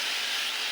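Water poured into a hot pan of fried spice paste bursts into a steady, broad steam hiss that stays loud and even through the short moment.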